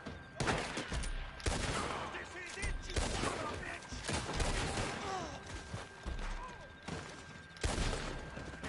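Repeater rifle gunfire in Red Dead Online: a rapid run of sharp shots, some in quick clusters, stays loud and close for the whole stretch over dense battle noise.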